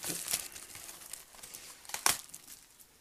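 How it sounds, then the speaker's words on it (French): Plastic wrapping crinkles and tears as it comes off a box of fireworks, faint close rustling with a couple of sharper crackling bursts. "Je vais peut-être enlever le plastique avant de vous montrer rapidement la boîte."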